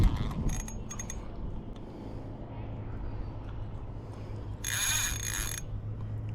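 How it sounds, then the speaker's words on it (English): Drag clicking on a cheap yard-sale fishing reel as a fish pulls line, rapid ratcheting bursts near the start and a louder sustained run later, with someone talking over it outdoors. "Singing on that drag."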